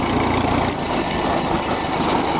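An old tractor engine, never rebuilt, runs steadily nearby with a constant chugging drone and no change in pace throughout.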